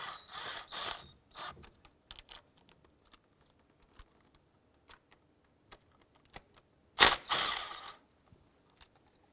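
Ratchet work removing two 10mm fuel rail bolts on a 2001-2007 Ford Escape during a knock sensor replacement: quick ratcheting clicks, then sparse metallic taps and one louder clatter near the middle, close and otherwise quiet.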